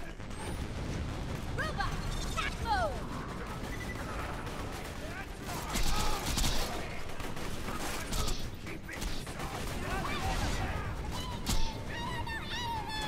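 Gunfire rattles through a chaotic Borderlands 2 firefight, with repeated shots and mechanical bursts layered over explosions, while a player's voice talks over the din.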